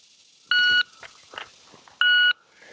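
Two short, loud electronic beeps from a shot timer about a second and a half apart, with faint clicks and shuffling in between, during concealed-carry draw practice.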